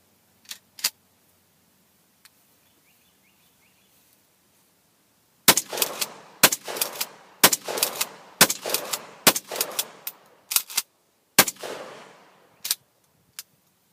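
Pump-action H&R Protector shotgun fired in a rapid string of loud, sharp blasts, each followed by a short echoing tail, after a few quiet pump clicks at the start.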